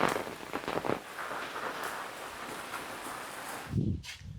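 Steady rain falls outdoors over a kitchen vegetable garden with taro plants, a dense continuous patter that stays even throughout, with a short low thump near the end.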